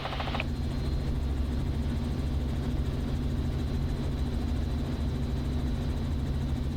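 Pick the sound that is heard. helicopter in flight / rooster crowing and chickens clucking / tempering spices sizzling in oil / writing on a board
helicopter in flight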